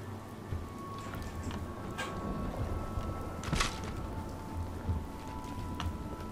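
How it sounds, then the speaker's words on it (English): Steady patter of rain in Fallout 4, a soft continuous hiss of drops with a few louder splashes, moderately quiet and unbroken with no one talking. "Rain."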